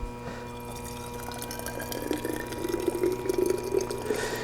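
Water being poured out of a cup during a cooling experiment, a steady trickling pour that grows in the second half over a constant background hum.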